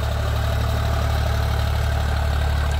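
A Sonalika DI 745 tractor from the 2024 model year runs at a steady idle or low load, its diesel engine chugging in a deep, even throb with constant vibration, close by and loud, with no talking.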